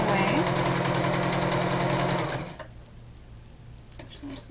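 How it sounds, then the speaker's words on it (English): A sewing machine stitches a fabric headband with a steady fast whirring drone for about two seconds, then slows and stops, leaving quiet handling sounds. "When you get down to the end, make sure you sew slowly in order to keep those hems folded up."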